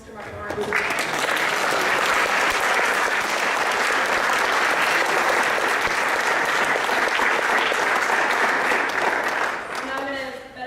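Loud, steady audience clapping at a St. Paul Central school event honoring speakers Col. Robert D. Cabana and Mark Lawrence, rising quickly and holding dense for about nine seconds before tapering, with a voice starting as it fades.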